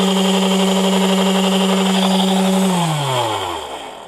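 A small DC motor driven by an Arduino-controlled H-bridge whines steadily at speed while spinning counterclockwise, then its pitch slides down as the motor slows over the last second or so, loud and close with no voices.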